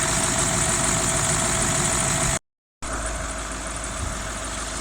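A Range Rover L322 3.6 TDV8 diesel engine idles steadily at close range, a continuous even rumble with a brief dropout midway, no voices.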